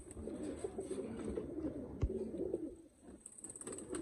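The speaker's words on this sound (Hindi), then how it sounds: "ये नील दुम्बा कबूतर आ गया है" Soft, throaty cooing of a blue-tailed pigeon in repeated low warbling phrases, close by, with a faint background hum.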